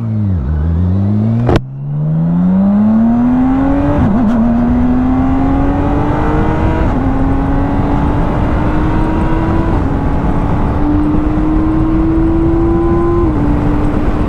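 A loud, close motorcycle engine revs hard and accelerates, its pitch climbing and dropping back at each gear change, again and again.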